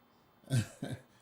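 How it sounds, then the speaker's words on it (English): Two quick, close coughs from a woman in quick succession, sharp and fairly loud against a quiet room. "for every cough that she makes"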